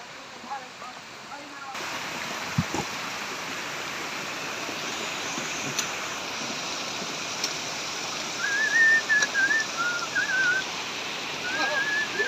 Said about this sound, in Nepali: खोला बगिरहेछ है, बल्ल लेदो आइरहेछ, पहिरो झर्दैछ।